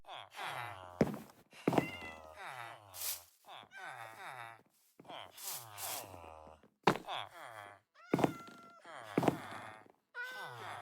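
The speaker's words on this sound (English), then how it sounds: "Yes, cat. I hear you," A Minecraft cat meows again and again in clear, close calls with short gaps between them, and a few dull thunks sound in between.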